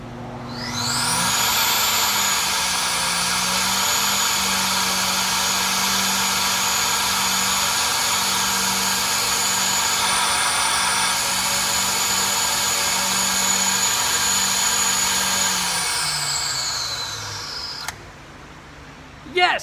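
A flow bench tests a one-barrel carburetor on a Weber adapter: a loud, steady whine and roar holds for about seventeen seconds, then winds down and cuts off, leaving a quiet tail with a short knock at the end.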